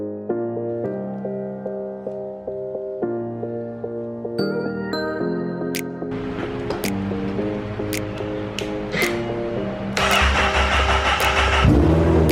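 The engine of a crashed 2013 Honda CBR 1000RR motorcycle is cranked and started. A steady tonal whine comes first, then clicks and a rising rough rumble that grows louder at the end.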